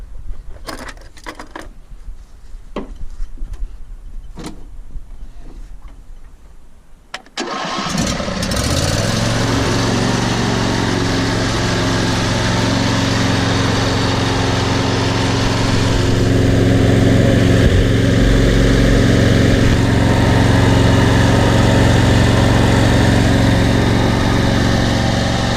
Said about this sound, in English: Let's give it a start here with the new fuel filter.